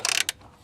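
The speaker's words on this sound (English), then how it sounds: "I'm going to take my 15mm ratchet wrench and I'm going to run that bolt back in the same way I took it out" A 15mm ratchet wrench runs a bolt back in on a Trail Blazer during an alternator replacement, giving a fast, close burst of ratcheting clicks, then one short second burst, with a faint thump at the end.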